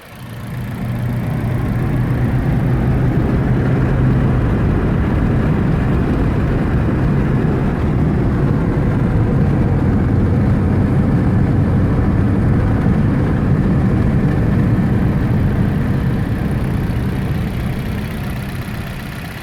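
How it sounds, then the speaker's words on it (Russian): Car engine on a highway test drive after an injector flush with dimexide, misfiring and knocking, runs as a steady loud broadband drone with road rumble for the whole stretch, no voices over it. "Сейчас немного газанем по трассе, чтобы у нас вылетела вся зараза."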